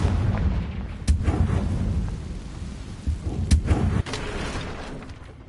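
Confringo blast in Hogwarts Legacy, cast during a fight with a giant spider: heavy rumbling booms with several sharp cracks around the first and middle moments over a dense, roaring background.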